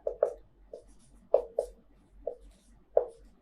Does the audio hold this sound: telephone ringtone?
no